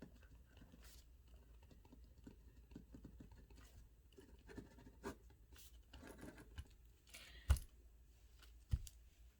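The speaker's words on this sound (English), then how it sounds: "I'm going to sign off the signature profile by dating and writing my full name" A pen writing a signature and date on a patient record: quiet, scratchy strokes and light taps, faint and intermittent, with a couple of sharper clicks near the end and no talking.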